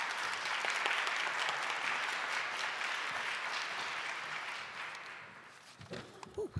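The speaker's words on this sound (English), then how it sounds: "Please give a round of applause." Sustained applause from an audience for a poet at a summit closing performance, steady and full for several seconds before tapering off, and a few scattered claps and a voice are heard at the end.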